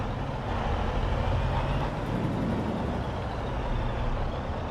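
Truck pulling in to park while hauling a car, with a steady loud engine rumble and a broad hiss of air brakes, no voices.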